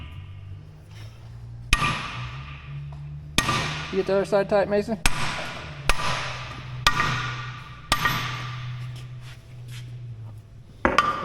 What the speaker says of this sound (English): You need a big old hammer right here